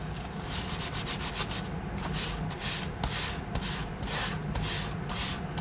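Steady hand sanding of a distressed wooden piece with 220 grit sandpaper, a continuous close rubbing scrape with rhythmic back-and-forth strokes throughout, no talking.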